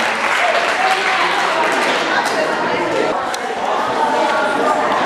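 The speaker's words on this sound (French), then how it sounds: "Second applaudissement." School debate contest audience applauding, dense steady clapping from a crowd filling the whole stretch, loud and close, with scattered voices and cheers mixed in.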